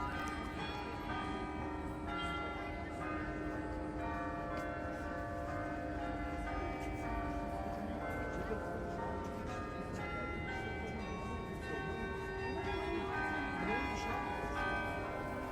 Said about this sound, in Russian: как и сейчас, с ее вершины разносились звуки колоколов карильона